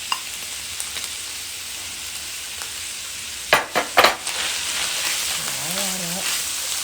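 Frozen corn fries in a pan with a steady broadband sizzle, broken near the middle by a few sharp clatters of stirring, followed by a brief tonal warble at the end.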